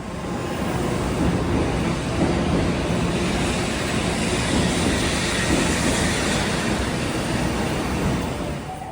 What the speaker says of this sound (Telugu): మా ట్రైన్ వస్తుందండి, ఎక్కుదాం పదండి.